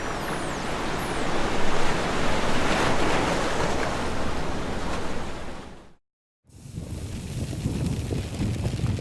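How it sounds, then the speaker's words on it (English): Ocean waves roll on an alien world with no land to break against, a steady loud wash of surf and wind that drops out briefly, then resumes. "these waves have no land mass to crash into, so they really can build to quite substantial sizes"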